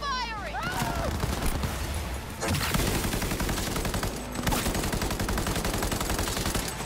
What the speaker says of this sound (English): Alright, let's try out this assault rifle.